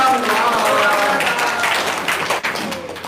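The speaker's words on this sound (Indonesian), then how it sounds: "tepuk tangan dong" Audience clapping at an Indonesian seminar testimonial session, a steady dense patter of many hands that holds loud and then thins toward the end, with some voices mixed in.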